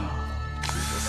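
A power drill whirs steadily with a high mechanical whine, briefly shifting pitch partway through. No talking.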